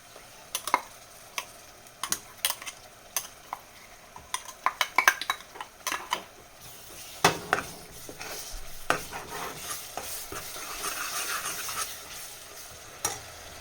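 Ground masala fries in a pan for a mutton and broad bean curry while a metal spoon stirs it. Quiet sizzling runs under irregular scraping clinks, and a brief, louder hiss swells toward the end.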